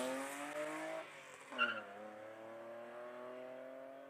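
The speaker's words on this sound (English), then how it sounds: "Johan Zulch up in the E30 BMW just started off the start line" BMW E30 race car launching off the start line at a classic car speed event in Cape Town, a distant engine revving up through a gear change with a brief tire chirp, faint and steady.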